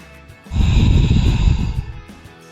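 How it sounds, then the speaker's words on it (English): A single deep yoga breath, a long, close, breathy exhale rising and fading over about a second and a half, alone without talk. "Nice deep breaths."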